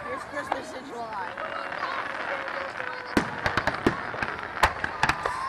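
Fireworks at the Bay City fireworks show crack and boom in a rapid cluster of sharp bursts after whistling rising shells, with spectators talking and cheering throughout.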